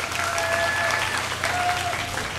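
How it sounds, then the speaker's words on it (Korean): Brief burst of audience applause at a belly dance contest in Korea, dense clapping at moderate loudness with a faint tone sliding underneath. "큰 박수를 부탁드립니다."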